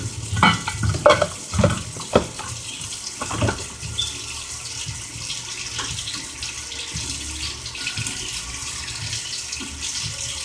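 Hot boiled water is poured out near at hand, with splashy clatters and a few sharp bumps early on, then a steady, soft rushing stream.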